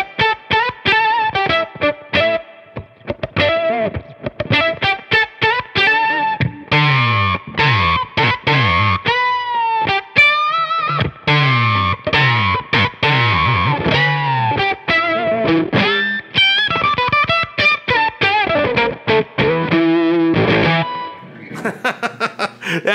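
Electric guitar on the neck pickup with the tone rolled off, played through a Beetronics Octahive octave fuzz pedal in its rhythm circuit; gated, buzzing fuzzy riffs with choppy stops and sliding notes, loud and alone.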